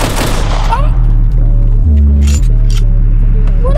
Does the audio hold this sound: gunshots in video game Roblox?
yes